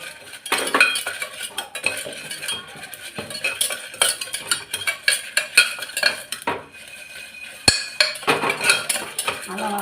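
Ingredients roast in a pan while a metal spoon stirs and scrapes, producing steady close clinks and scrapes against the pan with light sizzling underneath, with no talk.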